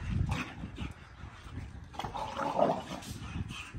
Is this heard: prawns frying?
no